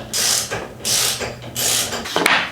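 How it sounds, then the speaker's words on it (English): A torque wrench ratchets as a Ford 7.3 diesel injector clamped in a vise is tightened to 75 foot-pounds, giving four close, loud bursts of rapid clicking separated by short pauses. "We're gonna just take it in the vise and tighten it down."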